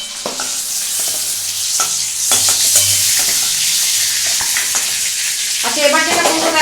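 Pointed gourd frying in a pan for a vegetarian dorma, a steady loud sizzle with repeated scraping and stirring clatter from a spatula throughout.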